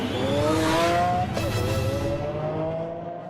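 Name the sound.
Lamborghini Aventador prototype driving on a race track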